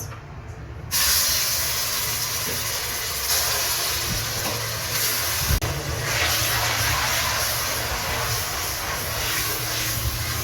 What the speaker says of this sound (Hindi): गर्म हो चुका है, इसमें ऐड करते हैं प्याज।